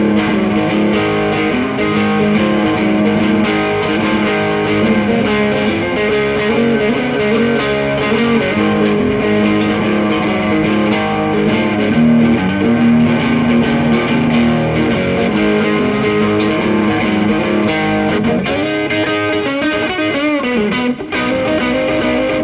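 Distorted electric guitar on the front pickup, played with a warm, thick tone, sustained chords and riffs ringing steadily and loud, with a brief dip near the end.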